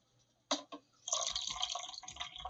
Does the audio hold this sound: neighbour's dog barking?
no